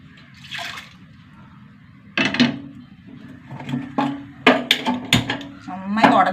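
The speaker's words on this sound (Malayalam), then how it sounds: "പരിപ്പ് ചട്ടിയിലേക്ക് മാറ്റാം." Cooked lentils transferred into a clay pot, with wet sloshing, scraping and knocking of a utensil against the pot in irregular bursts that grow busier toward the end.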